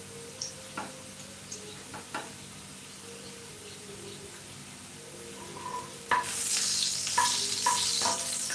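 Onions frying in a pan for Chinese-style stir-fried cabbage: scattered stirring scrapes and clicks over a quiet base, then a louder, steady sizzle swells in for the last few seconds, with utensil taps on top.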